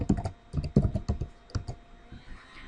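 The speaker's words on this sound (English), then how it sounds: "I'm just going to type in my first and last name and the email address" Typing on a computer keyboard while entering a name and email address into a Google spreadsheet, with a close, quiet run of irregular key clicks that thins out near the end.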